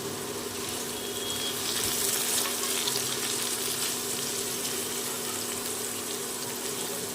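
Food for a vegetarian dish fries in a pan with a steady, close, broad sizzle that holds evenly throughout, with no voices.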